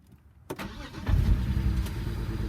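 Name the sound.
car engine cranking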